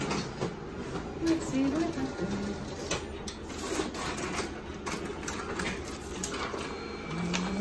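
A photocopier runs a copy of gridded artwork, a steady mechanical whir with faint clattering rhythm throughout, close by, while a person speaks briefly over it.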